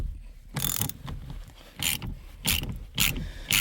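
A ratchet wrench works a 13/16 bolt out of a steering column on a 1991 Pontiac Firebird, giving several short clicking bursts in an uneven rhythm, close and moderately loud.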